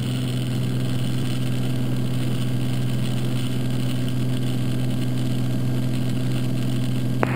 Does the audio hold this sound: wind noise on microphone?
no